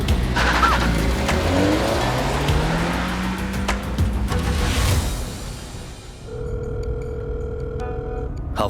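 A car revs and pulls away under tense dramatic music, its engine noise swelling loud and then fading, followed by a steady electronic telephone tone.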